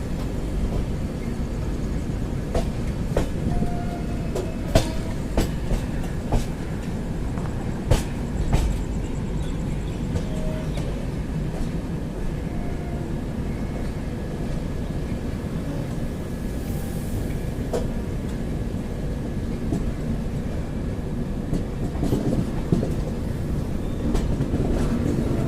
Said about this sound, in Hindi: तो दोस्तों ये जो ट्रेन सामने से निकल रही है ये है न्यू दिल्ली अमृतसर शताब्दी एक्सप्रेस।